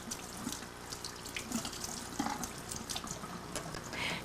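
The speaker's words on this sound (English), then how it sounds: "Then rinse the brush and remove any lint from the brush tufts." Running water rinses the brush roll of a 1993 Kirby G4 vacuum cleaner under a tap, a steady close splashing stream with small drips and shifts in flow, no voices.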